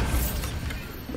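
In Hogwarts Legacy, a Bombarda blasting spell strikes with a sharp, crunching, shattering burst, a close, dense impact that rattles and creaks briefly before trailing off.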